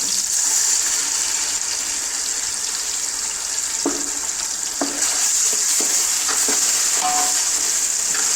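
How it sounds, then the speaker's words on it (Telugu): Ginger garlic paste frying in a pan while being cooked for chicken pulao, a steady hiss of sizzling oil with periodic scraping knocks of a spoon stirring it, close and continuous with no talking. "ఇలా వేగిన తర్వాత ఇప్పుడు అల్లం వెల్లుల్లి పేస్ట్ వేసేసుకుందాం"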